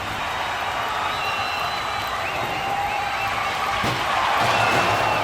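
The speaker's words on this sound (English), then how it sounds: "You can hear the crowd. They are so excited for this match." A wrestling-match crowd roars with continuous cheering and a dense wash of voices, loud and sustained throughout, with a sharp thud partway through.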